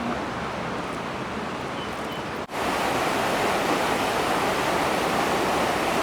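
A river in Ecuador rushes below a scenic overlook, a steady broadband roar of flowing water heard from above, constant throughout apart from a split-second dip midway.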